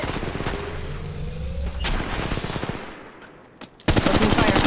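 Automatic weapon fire in the video game Apex Legends Mobile, fast rattling bursts that fade to a lull, then a loud renewed volley of close shots at the end.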